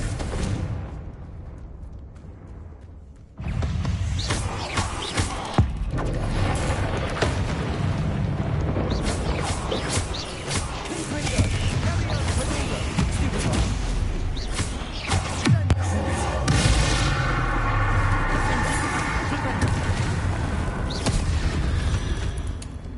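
A Confringo fire spell explodes in the game Hogwarts Legacy, starting with a sudden loud boom that leads into a dense, sustained roar of blasts, crackles and rumbling with no speech.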